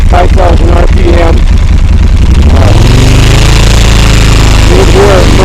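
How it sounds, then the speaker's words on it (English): A Moto Guzzi Norge motorcycle engine revving through its exhaust, a throaty pulsing idle that rises into a sustained loud rev and falls back, very close and heavy. "A little bit of a difference when I rev it up."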